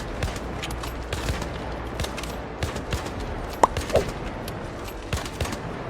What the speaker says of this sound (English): What they're doing is they're emptying a full mag.